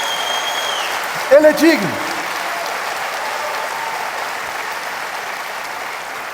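A church congregation applauds in a steady, continuous wash of clapping that carries through the whole stretch, while a preacher speaks briefly over it.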